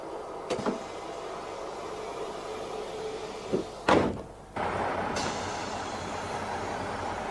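Mechanical clunks and a whooshing slide of Class 155 train doors closing, followed by a steady low rumble of machinery, with a brief hiss near the end.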